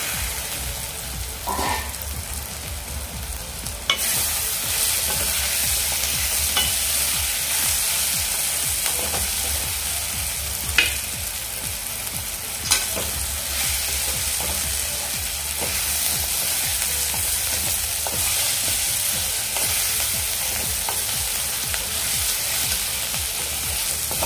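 A chutney of dried salted mackerel (bangda) sizzles steadily in a pan, with a continuous close frying hiss and occasional sharp clicks and scrapes as it is stirred.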